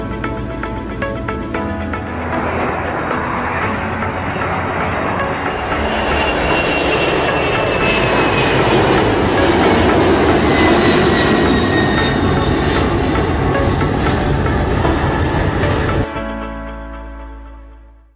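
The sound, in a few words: Emirates Airbus A330-200 engines in video game SimplePlanes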